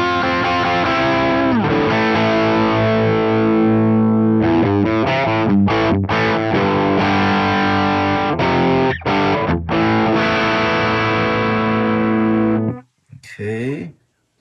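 Electric guitar played through a Fender Pugilist distortion pedal on channel B, set to about nine o'clock: loud, thick distorted chords that ring out, then choppy stabs and a final short burst after a brief pause.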